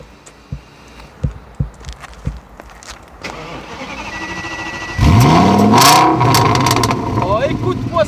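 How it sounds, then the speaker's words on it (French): A V10 car engine cranks over, catches and settles into a loud, close idle with revving swells, after a few earlier knocks; someone talks over it. "Regarde comment ça tourne un V10."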